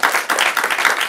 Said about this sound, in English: And I think he deserves a round of applause